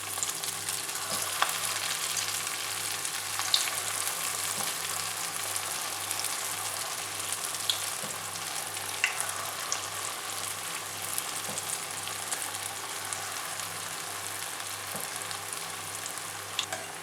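Idli-batter bondas deep-fry in hot oil with a steady, bubbling sizzle that runs unbroken throughout, dotted with faint clicks and small pops close by.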